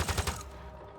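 Gunfire in the video game Mass Effect: Andromeda, a quick cluster of loud bursting shots in the first half second that fade into a softer rumbling tail.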